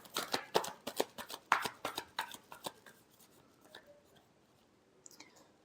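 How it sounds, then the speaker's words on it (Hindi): Tarot cards are shuffled close up in quick, crisp riffling bursts for a few seconds, then the sound thins to a few soft, scattered taps and card handling in near silence. "Last shuffle."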